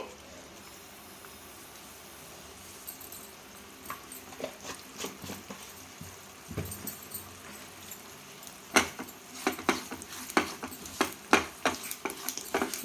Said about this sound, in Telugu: రెండు స్పూన్లు నెయ్యి వేసి వేయించుకుంటే పచ్చివాసన లేకుండా ఉంటాయి గసగసాలండి